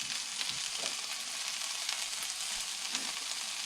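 Potstickers pan-frying on a stove give off a steady, broad sizzle that holds even throughout, with faint crackles and small pops scattered across it and no voices.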